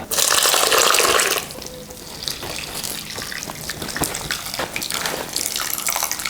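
Whey running and splashing off freshly made cheese curds as they are squeezed by hand, a loud watery gush at first that settles into steady trickling and dripping, with no voices.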